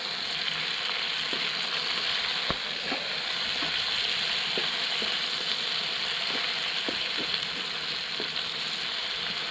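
Food frying in a wok over a campfire, a steady close sizzle running throughout, with scattered clinks and scrapes of stirring breaking through at irregular intervals.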